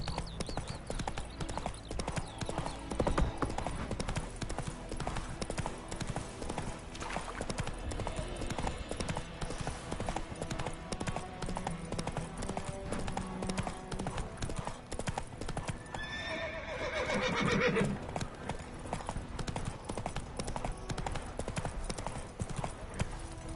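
Roach, a horse in The Witcher, gallops with a steady, close clip-clop of hooves over game ambience and music, with a clear whinny rising partway through before the hoofbeats carry on.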